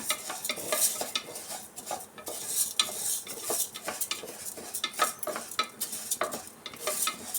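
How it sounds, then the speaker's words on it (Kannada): Moong dal being dry-roasted in a pan for hesarbele payasa, rapid repeated scraping strokes of a spoon against metal over a faint sizzle, close and rhythmic, with no talk. "ಹಸಿ ಸ್ಮೆಲ್ ಹೋಗೋವರೆಗೂ ಹುರ್ಕೊಂಡ್ರೆ ಆಯಿತು"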